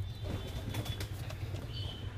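Domestic pigeons in a home loft, quiet soft cooing and rustling with a few light wingbeat flutters, close by and faint against a low steady background hum.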